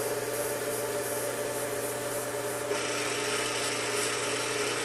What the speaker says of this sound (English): using the fine grit, I can quickly hone a fresh edge on a pair of snips.